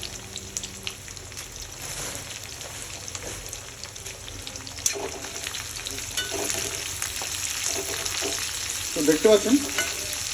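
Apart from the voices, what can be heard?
frying chicken kofta spices with green chilli in a pan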